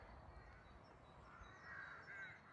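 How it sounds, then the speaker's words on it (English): Crows cawing on a spring day near old church ruins and the remains of a church cross in England, several calls at moderate distance over steady outdoor background noise. "the birds are very noisy as we walk past the ruins of the old church cross"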